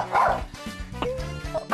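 A pet dog named Mong barks at a visiting trainer in a family home where a baby sleeps, giving several close, sharp barks and yips in quick succession with no talk.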